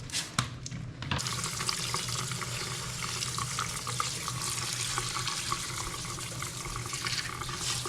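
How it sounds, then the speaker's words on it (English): Grapes are rinsed under a running tap in a kitchen sink: a few knocks at the start, then a steady, close rush of flowing water splashing throughout. "We got the grapes in the sink, and we're gonna wash them and rinse them"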